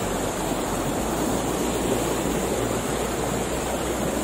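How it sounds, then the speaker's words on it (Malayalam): Fast-flowing stream water rushes between rocks at Vagamon, a constant loud, dense roar with no pauses, close to the listener and no voices. "നല്ല ഒഴുക്കുള്ള വെള്ളം, പാറക്കെട്ടുകളുടെ ഇടയിലൂടെ ഒഴുകി വരുന്ന വെള്ളം"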